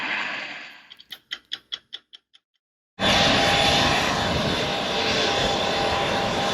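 A Cirrus Vision G2 jet sits on the ground for its pre-flight as a loud, steady broadband engine roar begins abruptly and holds, after a brief run of rhythmic ticking clicks that fade into a moment of silence.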